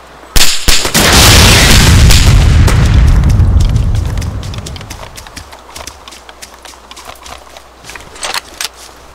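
A grenade launcher fires in Arma 2 DayZ, a sharp loud thump followed by a long booming roar that slowly fades into scattered clicks, knocks and footsteps.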